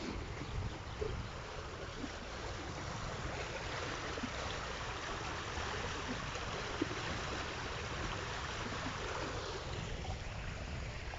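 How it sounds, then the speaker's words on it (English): Water from a cave stream on Kefalonia flows in a continuous, fairly loud rush, with some wind buffeting the microphone and no talk. "this must be the water coming from the cave we've just been in"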